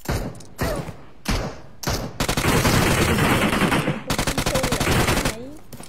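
Automatic weapons fire in PUBG: Battlegrounds: several short, loud bursts separated by pauses, then a long continuous stream of rapid shots with another rattling burst before it tapers off.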